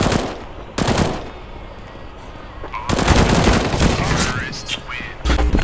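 Rifle fire in Counter-Strike: Global Offensive on the Mirage map comes in several sharp bursts separated by gaps, loud and close, with players talking between the shots.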